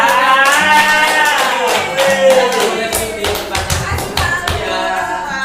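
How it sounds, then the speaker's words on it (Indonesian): Classroom clapping at the end of a microteaching biology lesson, a short burst of close, loud hand claps mixed with a voice and room chatter. "Oke, tepuk tangan."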